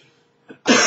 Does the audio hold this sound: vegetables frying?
no